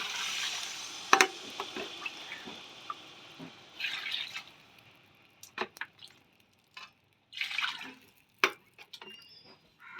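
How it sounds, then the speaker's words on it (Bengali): Water poured into a pan of pointed gourd and potato curry gives faint splashes and bubbling, with scattered sharp clinks and a soft sizzle underneath, heard quietly and up close with no talking. "এরপরে জল দিয়ে দেব"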